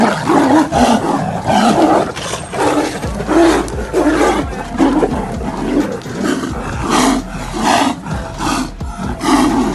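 A tiger and another wild animal fighting in the jungle, roaring and snarling in loud, close, overlapping bursts that pulse continuously throughout with no speech.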